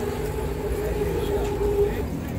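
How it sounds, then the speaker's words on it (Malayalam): A metro train passes overhead above a market street lined with clothing stalls, a steady low rumble with a faint tonal whine that lasts the whole stretch, with murmuring voices in the background. "മുകളിൽ കൂടെ മെട്രോ പോകുന്നു."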